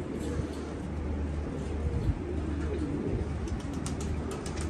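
Domestic pigeons coo softly and repeatedly over a steady low rumble, the calls continuous and fairly close across the whole stretch, with no talking.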